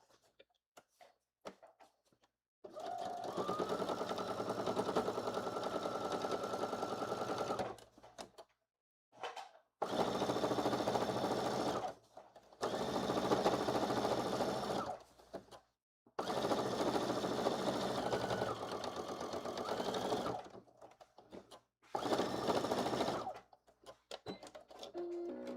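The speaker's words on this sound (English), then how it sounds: "I think I want to go ahead and top stitch the bottom too" Sewing machine top stitching along the bottom of a fanny pack, running in several sustained bursts of a few seconds each separated by brief pauses, loud and close with no talking.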